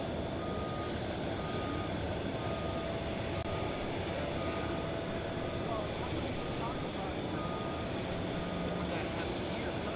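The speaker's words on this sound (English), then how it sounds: "Volaris, Flight 801 to Mexico City. It is a Airbus A320." A Volaris Airbus A320 airliner, flight 801 to Mexico City, at DFW Airport at night, heard as a faint, steady engine roar from a distance, joined by a repeating reversing beep from ground vehicles and a voice talking over it.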